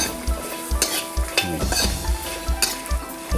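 Chili and aromatics stir-frying in hot oil: a steady sizzle with repeated rhythmic scrapes and stirs of a utensil against a pan, close and fairly loud, no talk.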